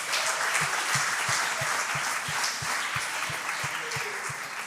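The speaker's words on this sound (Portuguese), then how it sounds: "Aplauda o Senhor." A church congregation applauding, a continuous wash of clapping with a steady rhythmic beat running through it, lasting throughout.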